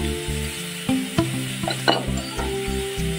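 Ginger garlic paste and red chili powder sizzle as they fry in a pan for chicken potato chops, with steady crackling broken by a few sharp clinks of a spoon stirring against the pan.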